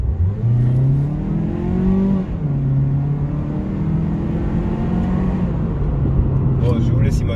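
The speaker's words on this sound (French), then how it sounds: "On va se faire une petite accélération pour constater un peu." A Mazda CX-3 crossover accelerates, its engine note rising through the gears in a steady interior drone, with a voice talking over it throughout.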